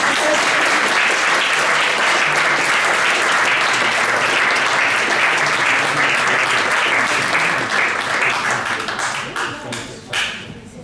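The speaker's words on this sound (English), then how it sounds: "please a big applause again for Sophie" A large audience applauds a speaker at the FameLab Basel 2023 science communication semi-final, a loud, dense, continuous clapping that holds for about nine seconds and then thins out into a few last claps.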